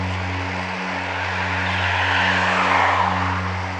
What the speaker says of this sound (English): traffic noise and wind noise in my ears.